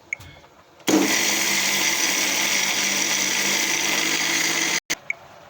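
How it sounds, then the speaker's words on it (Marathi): A kitchen mixer grinder coarsely grinds amaranth leaves, starting abruptly with a loud, steady whirring drone that holds for about four seconds, then cuts off briefly and gives two short bursts before stopping. "आता आपण याला मिक्सरमध्ये ग्राइंडर बारीक करून घेऊ."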